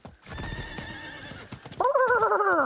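A horse in the Diablo 4 video game gives a loud, close whinny near the end, following steady hoofbeats across an open field, with no talk over it.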